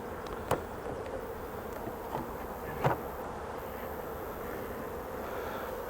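Honey bees hum in a soft, continuous drone around a poly hive, with a few faint bumps and taps breaking the buzzing.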